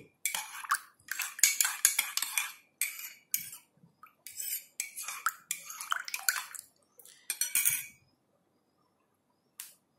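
A spoon clinking against a glass or bowl while mixing a honey mixture, quick bursts of close metallic tapping and stirring separated by short pauses, then silence.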